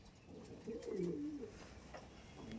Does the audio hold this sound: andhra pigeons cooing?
yes